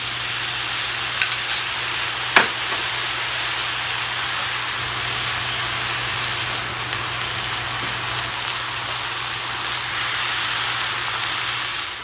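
Rice blended with oyster sauce and soy sauce stir-frying in a pan, a steady close hiss and crackle throughout with a few faint scrapes and one sharp clink early on.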